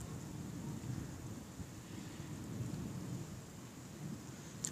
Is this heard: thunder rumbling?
yes